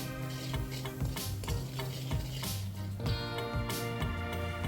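Garam masala and turmeric being stirred into a street-food mix in a pan, a steady scraping stir over a continuous close sizzle of frying with no voices.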